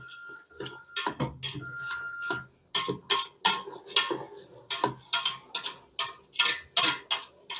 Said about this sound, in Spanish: Suena así porque estoy moviendo la olla interna,